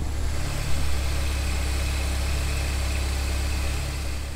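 A Honda S2000 engine idles smoothly with a steady, deep low-frequency rumble and even vibration, close and continuous throughout.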